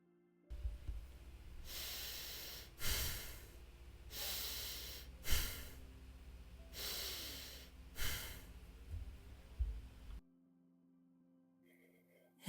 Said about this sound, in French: Expire rapidement et puissamment par le nez en rentrant le ventre, comme si tu soufflais une bougie avec ton ventre.